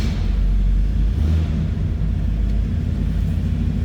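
A 1972 Oldsmobile Cutlass Supreme two-door hardtop V8 runs after starting, giving a loud, steady low rumble close by with a slight swell early on and no voices.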